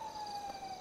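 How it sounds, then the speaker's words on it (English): An ambulance siren in the GTA video game, a steady wailing tone heard briefly, fairly faint and alone. "Nah, that's the ambulance."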